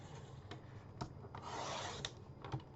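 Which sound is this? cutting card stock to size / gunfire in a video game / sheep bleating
cutting card stock to size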